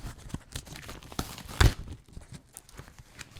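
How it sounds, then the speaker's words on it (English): Cardboard package being torn open by hand in a living room, a few rough ripping bursts with one sharp louder tear near the middle, close and alone. "So let's open this up so I can show you guys."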